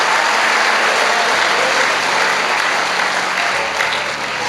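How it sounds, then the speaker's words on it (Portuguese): A church congregation applauding during a sermon, dense, loud and sustained clapping from many hands filling the whole stretch, easing slightly at the end. "Aplauda Ele, por favor."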